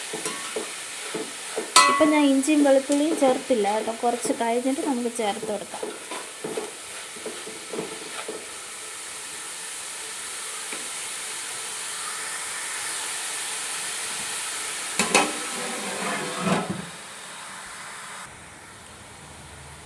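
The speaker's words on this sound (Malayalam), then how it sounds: "നമുക്ക് നന്നായിട്ട് മിക്സ് ചെയ്തിട്ട് ചെറു തീയിൽ വെച്ചിട്ട് ബ്രൗൺ കളർ ആക്കി എടുക്കാം" Onions for biryani fry on a low flame and are stirred in a pan, giving a steady sizzle with scraping stirs. A voice talks over the early part, then the frying continues alone.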